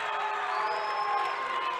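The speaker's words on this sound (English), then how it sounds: "Grantsville crowd letting the official hear the boos." Spectators at a girls' high school 3A basketball semifinal boo the officials in a sustained, steady wash of crowd noise, fairly loud and unbroken throughout.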